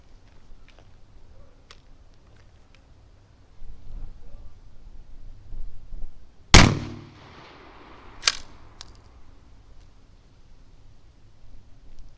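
A 12 gauge shotgun fires a single buckshot short shell outdoors: one sharp, very loud blast with a short decaying tail, followed by a fainter echo-like crack, surrounded by quiet handling noise and no speech.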